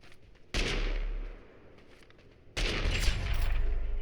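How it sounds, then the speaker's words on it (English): Musket gunfire in the video game Totally Accurate Battlegrounds: two loud, close blasts a couple of seconds apart, each with a sharp attack and a long, ringing decay. "they land the musket shot"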